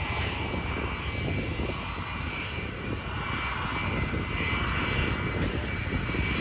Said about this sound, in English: You hear the engines come up.